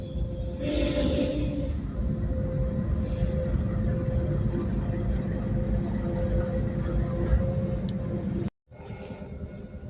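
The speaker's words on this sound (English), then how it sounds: "there's a freight train passing by right now." A steady rumbling roar of a passing freight train, with constant low clatter and a brief high screech early on, continuous throughout.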